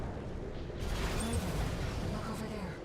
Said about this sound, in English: And then an explosion goes off over there.